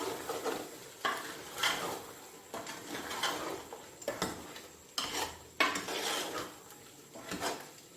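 Spices with crushed red chili, turmeric and coriander powder fried in a pot for beef pulao, with repeated scraping stirs of a spoon against metal over a soft sizzle, in steady bursts about once a second.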